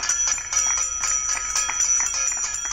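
A hand bell rung during the Janata curfew in Madhya Pradesh, with bright metallic strikes repeating steadily and close, several per second, over a constant ringing tone.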